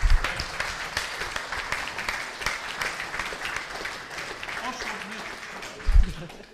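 Applause for a couple's 25th wedding anniversary at a web application security conference, steady and dense through the hall with voices murmuring underneath and a brief loud thump near the end.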